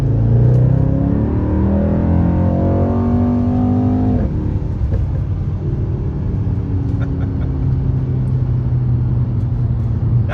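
A 2019 Mercedes-AMG E63S Wagon engine pulls hard and loud, its revs climbing in a rising howl, then shifting and building again with a deep, steady rumble throughout, close up and with no talking.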